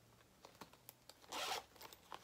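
A zipper on a small wallet or bag pocket pulled once in a short, quiet rasp, surrounded by faint handling clicks and rustles.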